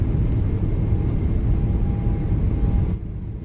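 A sci-fi audio drama effect of spacecraft thrusters throttling up: a loud, steady, roaring rumble fills the clip and then drops off sharply near the end, with no voices over it.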